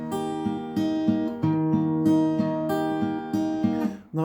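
Acoustic guitar fingerpicking a repeating arpeggiated pattern, clear and close, ringing notes with regular chord changes and no voices.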